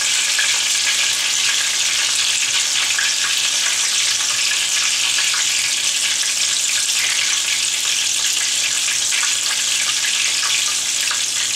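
Sausage frying in a pan, a steady dense sizzle that runs loud and unbroken throughout with no voices.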